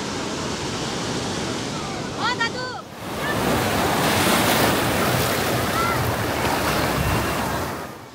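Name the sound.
sea waves breaking at Puri beach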